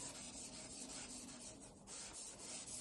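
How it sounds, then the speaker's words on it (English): A charcoal stick dragged on its side across drawing paper makes a steady, broad dry rubbing hiss that runs continuously and softly, with no voices. "I'm just using it on its side just to get a bit of a broader rubbing"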